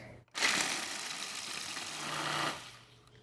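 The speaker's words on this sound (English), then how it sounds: "Wow, this is a good food processor." A food processor grinds ginger snap cookies into crumbs for a crust, a loud, steady whirring roar that starts abruptly, holds for about two seconds and then cuts off.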